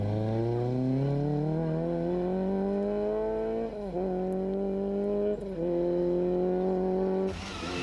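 A damaged Shell Nissan rally car on a stage of the 1995 Ulster Rally, its engine climbing through gears in loud, close rising whines, with short dips between upshifts before cutting off abruptly.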